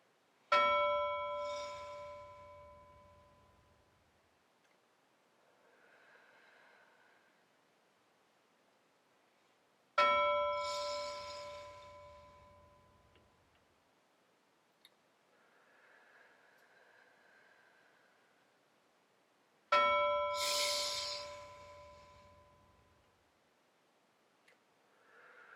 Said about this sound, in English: You can listen for a bell